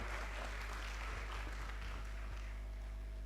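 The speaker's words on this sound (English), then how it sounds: "Please give me a round of applause." An audience applauding at a medical college alumni scholarship award ceremony, a continuous wash of clapping in a hall over a strong low hum, moderately loud and even throughout.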